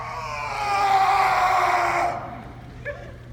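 A man imitates a primal scream with his voice, letting out one long, loud, strained yell that holds for about two seconds before breaking off, followed by a brief faint vocal sound.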